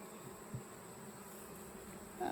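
A soft, steady hum of honeybees fills a beehive inspection in August, faint and continuous with a brief bump near the start and a louder rustle at the very end.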